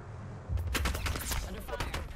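Rapid bursts of video game gunfire crackle in quick, overlapping volleys, sharp and fairly close, with a voice briefly heard alongside.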